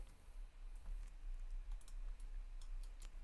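Light typing on a computer keyboard, a quick irregular patter of soft key clicks over a low background hum, faint and close, with no talk.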